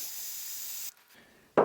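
A steady aerosol spray of Berryman brake cleaner hisses for about a second, stops briefly, then a short burst of louder sputtering sound follows.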